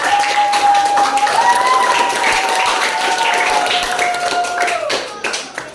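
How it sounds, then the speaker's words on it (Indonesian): A grade 7 classroom claps for its class leader: loud, close, rapid clapping from many students, with a sustained voice or hum carrying over it, before the clapping thins out and stops near the end. "Kita beri tepuk tangan untuk kepala kelasnya."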